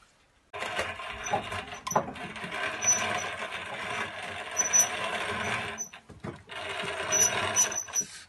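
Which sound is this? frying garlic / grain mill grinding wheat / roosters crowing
grain mill grinding wheat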